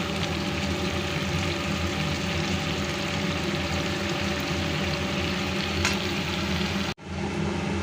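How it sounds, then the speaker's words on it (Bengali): Cauliflower and potato frying uncovered in a frying pan, a dense, steady sizzle close by that runs evenly for about seven seconds before a brief cut and resumes. "ফুলকপি এবং আলুটা লাল করে ভাজা হয়ে গেছে"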